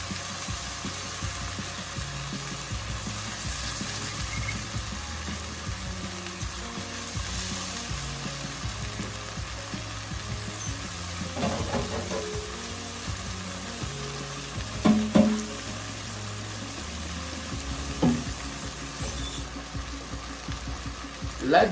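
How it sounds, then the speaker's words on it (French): Rice frying with shrimp, curry and onions in a pan, a steady close sizzle with scraping stirs throughout, punctuated by a few louder clatters and knocks. "je vais commencer à frire notre riz"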